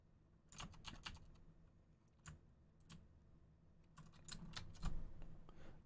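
Keys clatter on a computer keyboard in quiet, irregular bursts of clicks, with some pauses between presses, heard close and faint.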